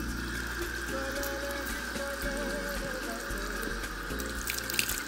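Water running steadily from a faucet into a sink while lip scrub is washed off, a continuous close splashing rush with no pauses.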